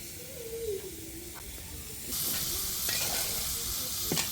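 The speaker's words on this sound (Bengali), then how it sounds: "মাছ ভাজা হচ্ছে" Steady hiss of fish frying in hot oil over a wood-fired stove, rising louder partway through, with a few faint clinks and a thin whistle-like tone early on.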